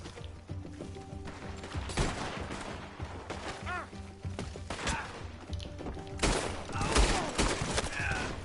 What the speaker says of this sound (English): Ah, shotguns.